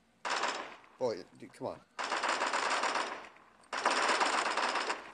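Long, dense bursts of automatic SCAR-H rifle fire in the shooter game Bullet Force, loud and close, come in three runs, and someone speaks briefly in the gap.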